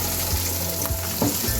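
Onion and cut vegetables fry lightly in a pan for macaroni with chicken, with a steady close sizzle and a few soft stirring scrapes, and no voices.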